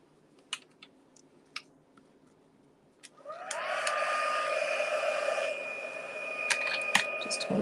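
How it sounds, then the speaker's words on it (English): A card-making heat tool switches on after a few quiet taps and then blows with a steady, loud whirring hiss that carries on to the end. "Come in with our heat tool."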